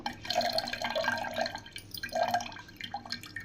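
Water poured into a bowl while making pani for golgappa, a few irregular splashing and dripping bursts at close range with no voices.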